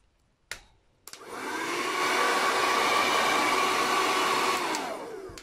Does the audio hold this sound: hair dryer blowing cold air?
yes